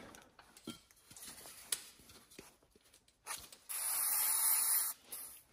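Cleaner is sprayed on Honda XR500 shock parts in a workshop, a loud hissing burst of about a second following scattered small clicks and metal handling.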